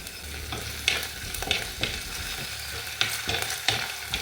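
Garlic and ginger fry in a pan for a Kerala-style fish curry, a steady crackling sizzle close by punctuated by sharp, repeated clicks and scrapes of stirring; no speech.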